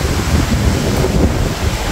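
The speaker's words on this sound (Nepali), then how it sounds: "यत्रो हावा आएको छ ओहो" Strong wind blowing through a park beside a pond, a steady, loud broadband roar buffeting the microphone continuously with no other clear sounds.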